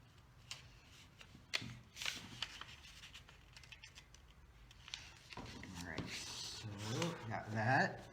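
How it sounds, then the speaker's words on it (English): Paper being folded by hand into a small square box, with scattered crisp creases, rustles and soft taps at close range, thickening near the end as the sheet is handled more. "fold it, turn it 90 degrees, fold it in half again"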